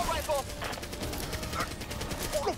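Gunfire in the video game Back 4 Blood, rapid cracking shots in a busy stream under scattered voices, moderately loud throughout.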